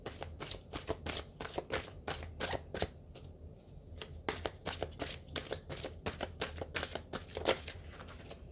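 A deck of oracle cards is shuffled repeatedly, giving crisp riffling bursts in a quick, uneven rhythm, close and fairly quiet.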